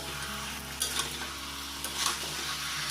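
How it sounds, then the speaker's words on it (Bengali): Marinated chicken frying without oil in a hot kadai, a close, continuous sizzle broken by a couple of louder stirring scrapes, with no talking over it. "কড়াই আগে থেকে বসিয়ে দিয়েছিলাম গরম করার জন্য। গরম হয়ে গেছে, তাই দিয়ে দিলাম মাংসটা।"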